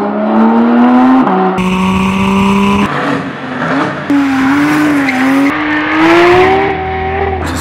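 A turbocharged Porsche 991.2 Carrera fitted with a Kline Innovation race exhaust revs hard and climbs through the gears, its loud engine note rising and falling across several abrupt shifts.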